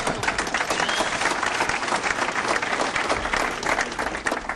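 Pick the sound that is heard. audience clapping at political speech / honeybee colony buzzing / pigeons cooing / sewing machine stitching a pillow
audience clapping at political speech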